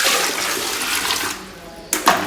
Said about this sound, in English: or you can use the bucket and flush.